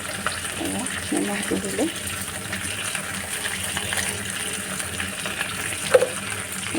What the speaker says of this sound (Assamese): ঠেংখিনি 5 মিনিটমান ভাজি লোৱা হ'ল।